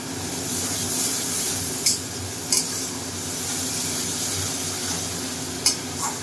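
Garlic, ginger and green chili paste fries in a pan while a spoon stirs it, giving a constant loud sizzle broken by a few sharp metallic scrapes and taps against the pan.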